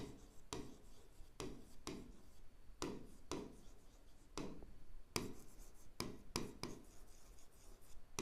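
A pen writes on paper in short scratchy strokes, about a dozen brief bursts with small gaps between them, close and fairly quiet, with no talk over it.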